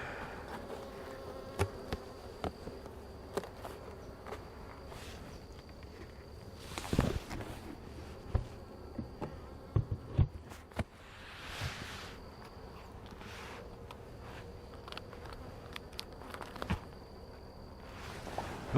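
Honey bees buzz around an open hive during an inspection, a faint steady drone with individual insects passing close, plus light rustling and handling knocks.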